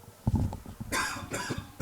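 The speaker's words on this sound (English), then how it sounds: "Sorry about the coughing fit there." A commentator at a high school varsity ice hockey game gives a short burst of harsh coughs, two or three close together, loud and near, with a rough throaty quality.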